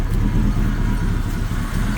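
The engine of a 1979 Chevy wrecker with a rusted-out exhaust idles in a loud, steady, low rumble close by, with no voices.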